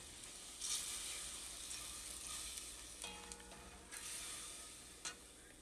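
Sofrito simmers and sizzles softly in a pot of Spanish-style rice with Spam, a faint steady frying hiss with a few light stirring clinks and scrapes, quiet and close with no talking.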